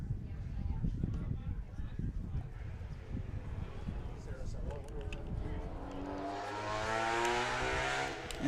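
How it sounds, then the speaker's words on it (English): A motorcycle goes by outside a Legion baseball game, its engine rumble swelling and rising in pitch toward the end, under a commentator's voice. "As a motorcycle goes by"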